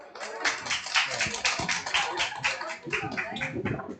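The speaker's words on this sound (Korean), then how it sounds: "박수 부탁드릴게요" Audience at a business group meeting claps steadily for a member coming up to speak, a dense patter of hands with voices mixed in.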